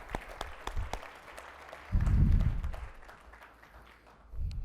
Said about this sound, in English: Let's give Meg another round of applause.